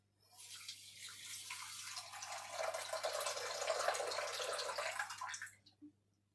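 Water pours steadily from a tap into a cooking pot for about five seconds, a close, hissing rush that swells and then stops abruptly, with no talk over it.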